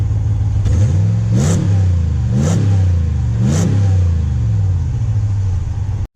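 A 2019 Ram 1500 pickup idles loudly nearby after a remote start, its deep steady rumble broken by three brief, evenly spaced revs before it cuts off.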